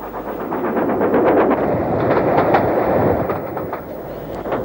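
A train rolls steadily along the rails of a Gloucestershire branch line, heading downhill toward Withington Station, its wheels beating a rapid clickety-clack rhythm under a constant loud rumble.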